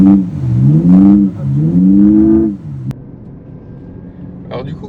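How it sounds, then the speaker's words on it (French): Abarth 600e electric car on the Balocco circuit, its artificial engine sound generator producing a loud, close, rising and falling synthetic engine drone in two sweeps before it drops away to a low rumble; a voice speaks briefly. "comme sur la 500, on a ici le générateur de bruit"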